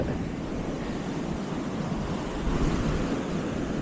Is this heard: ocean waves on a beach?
yes